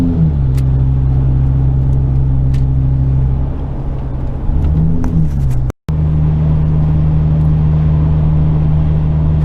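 A van's Ford V10 engine, 6.8 litre, pulling up a highway grade at speed, a loud steady low drone with road rumble, a brief pitch shift midway and a momentary dropout before the drone resumes.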